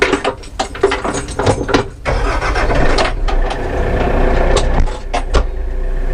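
A Kioti RX 7320 tractor with power shuttle and cab starting up, clicks and cranking giving way to a steady diesel rumble, loud and close, with a few knocks and clunks over the idle.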